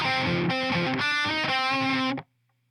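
A distorted electric guitar plays a riff from a song slowly, a few chugging notes ringing close and loud before cutting off sharply into quiet.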